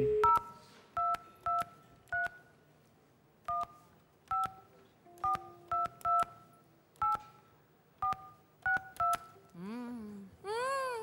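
Telephone keypad tones from a number being dialled to Mar del Plata during a televised house giveaway, a rapid irregular run of short beeps up close, followed by a warbling ring signal at the end.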